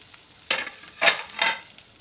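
A dry coconut, garlic and ginger masala for Maharashtrian bazar amti frying in hot oil, giving three distinct bursts of sharp sizzling as it is stirred, each fading back to a quiet hiss.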